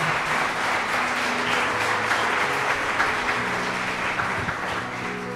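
Church congregation applauding during a sermon, a dense, steady wash of clapping held at an even level throughout, with faint tonal music or voices beneath.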